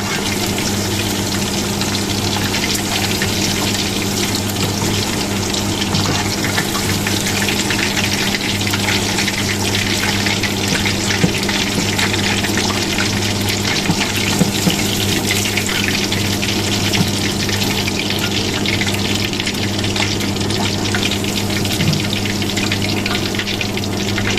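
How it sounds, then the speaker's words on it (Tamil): Chicken pieces deep frying in hot oil give a steady, dense sizzle and bubbling hiss that holds evenly throughout, close and fairly loud, with a faint low hum beneath and no talking. "இதே மாதிரி நாங்கள் எல்லாத்தையும் போட்டு பொறிச்சு எடுத்துக்கொள்ளுவோம்"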